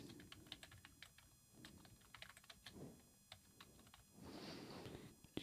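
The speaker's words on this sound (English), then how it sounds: "Just going to type in my name very quickly." Rapid, uneven keystrokes on a computer keyboard as a name is typed in, close and fairly quiet, with a brief denser burst of clatter near the end.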